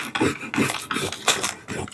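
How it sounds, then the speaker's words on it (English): A burnishing tool rubs down vinyl lettering on a Halloween craft sign, a close series of quick scratchy back-and-forth strokes in an irregular rhythm. "I'm going to take my burnishing tool and start rubbing it all down"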